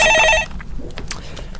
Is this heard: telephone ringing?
yes